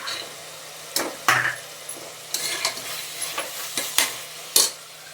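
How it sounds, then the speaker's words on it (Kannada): Green peas frying in oil with mint and coriander, stirred with scraping strokes over a steady sizzle; several louder clanks of the utensil against the pan stand out, with no talking. "ಆಯಿಲಲ್ಲಿ ಬಟಾಣಿ ಸೇರಿಸ್ಕೊತಾ ಇದ್ದೀನಿ"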